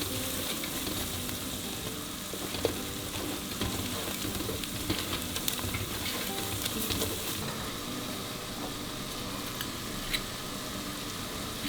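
Flour fries and is stirred in a pan for Zanjan-style onion soup, giving a continuous crackling sizzle with scattered light scrapes and taps.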